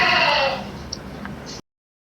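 Loud bleating of young crossbreed goats fills the first half second, then fades to a quieter background with a couple of faint, brief calls before cutting off.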